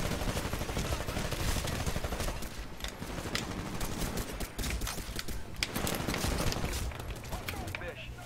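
Rapid automatic gunfire and bursts of shots rattle continuously in the Titanfall video game, dense and loud throughout, with a voice speaking over the combat.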